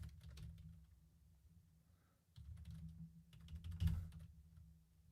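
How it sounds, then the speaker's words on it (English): Keys clatter in quick irregular bursts on a computer keyboard during a boxing livestream, close to the mic over a low background hum, with a brief pause partway through. "If I can type today."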